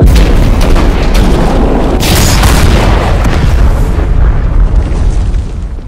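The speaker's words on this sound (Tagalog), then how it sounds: "biglang sumabog na naman ang itim na usok mula sa kinalalagyan ni Gregorio" A huge, sustained boom of black smoke erupting, a dramatic sound effect with deep rumbling roar and crackling texture filling the whole span, very loud and heavy before tapering slightly at the end.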